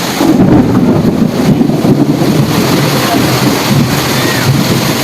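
Heavy rain pours steadily and close by, with low rumbling thunder and gusting wind rolling underneath throughout.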